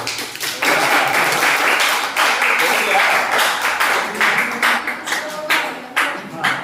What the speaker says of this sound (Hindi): अरे तो तालियां नहीं बजाया कोई